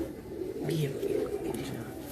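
A pet pigeon of a jamni variety cooing softly in a low, throaty warble, close and continuous over about two seconds, mixed with faint background voices.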